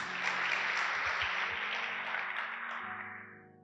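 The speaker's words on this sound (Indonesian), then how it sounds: "Kita beri tepuk tangan buat Tuhan Yesus." A church youth service congregation applauds steadily for several seconds as a dense wash of clapping, then it slowly fades out.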